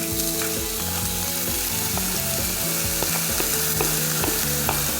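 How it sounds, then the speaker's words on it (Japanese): Scallop roe being stir-fried in a frying pan, a loud continuous sizzle with repeated scraping and clattering of a utensil against the pan, no voices. "ある程度炒まったらここにホタテのコッコを投入"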